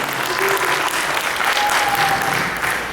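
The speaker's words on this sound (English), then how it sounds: "Can you give a round of applause for them, please?" Steady applause from a live audience at a fan Q&A event with the real-life Lois and Peter Griffin, dense and continuous clapping filling the room throughout with no pauses.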